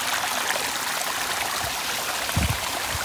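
Cold mountain stream water flowing around feet during a monsoon trek to Kohoj fort near Palghar, a steady close rush with a few brief splashes near the end.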